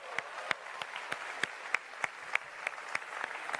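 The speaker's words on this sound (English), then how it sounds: "a huge round of applause for the Jurassic World Evolution developers" Sparse, fairly distant clapping from a small crowd at a game developer expo, with claps landing at a loose, roughly even rhythm.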